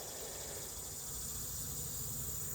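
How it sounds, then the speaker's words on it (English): Honey bees buzz steadily around a hive entrance fitted with screen bottom boards as foragers return laden with pollen, a dense, constant hum with no voices, fairly faint and unchanging throughout. "you look at all the bees coming back from the field"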